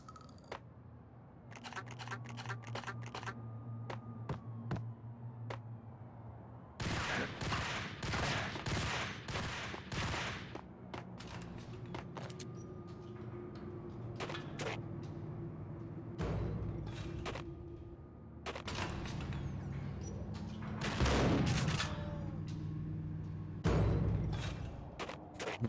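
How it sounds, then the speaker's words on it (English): Shotgun blasts from the video game Max Payne ring out as sharp, loud, repeated bursts in irregular clusters over a steady low in-game ambient hum. "Max and the shotgun sniping"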